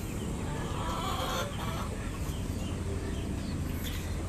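Brahma chickens clucking at a farm, soft overlapping poultry calls at moderate distance under a steady wash of outdoor background noise, with no talking.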